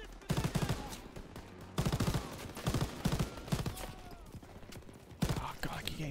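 Rapid bursts of enemy gunfire in Call of Duty WW2, heavy bursts and scattered shots recurring throughout, with game voices and player talk layered over the battle.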